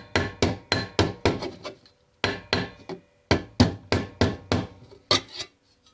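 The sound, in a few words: hammering down flared edge of steel armguard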